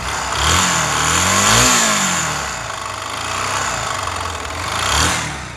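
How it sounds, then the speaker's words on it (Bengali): A Bajaj Pulsar NS 160 motorcycle engine with a harsh fault noise runs close by, a rough mid-pitched drone that rises and falls in a couple of gentle revs before settling, heard alone without talk. "একদম শ্যালো কি বলি ইট ভাঙ্গা মেশিনের মতো সাউন্ড"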